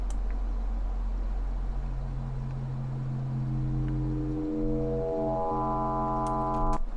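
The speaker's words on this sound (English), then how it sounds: "with just 2 sine waves, we can create a really harmonically rich waveform already" A synthesized tone made by frequency modulation of two sine waves blossoms into a harmonically rich, buzzy steady pitch, gaining overtones over the final seconds against a soft noisy hum, no talking.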